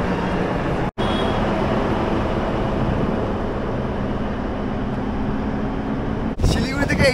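A 07525 DMU passenger train pulls out of Siliguri station, its steady engine rumble and rolling wheel noise running loud and close throughout, with a brief cut near the start and a sharper rattle near the end.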